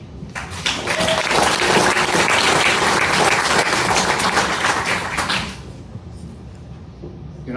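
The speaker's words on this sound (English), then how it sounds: "You're not supposed to stop applauding until I start talking." An audience applauds a stand-up comedian, a dense, loud burst of clapping that swells quickly, holds for several seconds, then drops away abruptly.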